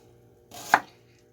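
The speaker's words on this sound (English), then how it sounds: "I think I'm just going to do half of this onion now that I've seen what I just put in the bowl." A single crisp knife chop through an onion on a cutting board, close and clear against a quiet kitchen background.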